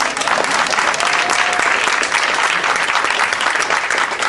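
A large crowd applauding loudly and steadily, dense clapping filling the whole stretch without pause.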